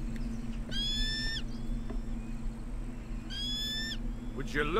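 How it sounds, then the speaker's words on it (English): An owl hoots twice in the video game Achilles: Legends Untold, each call a short, bright run of tones, one early and one near the end, over a steady low ambient drone. "there's a bird."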